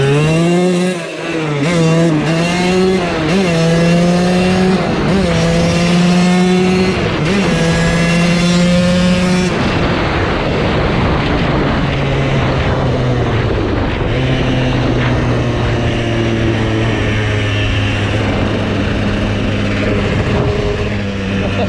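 A KTM 200sx two-stroke dirt bike engine revs hard through several rising gear pulls, then drops to a lower sustained drone as the ride continues, loud and close with no talk.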